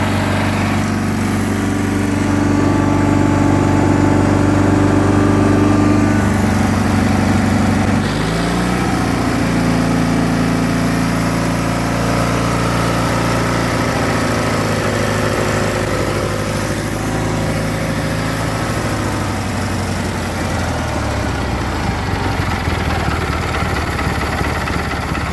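Cub Cadet 1811 lawn tractor engine running on a new carburetor, a loud, steady close-up drone with the pitch shifting partway through and dropping near the end.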